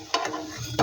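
Evening snacks frying in very little oil in a home kitchen give a short soft crackle with a couple of brief sizzling bursts, fairly quiet and close.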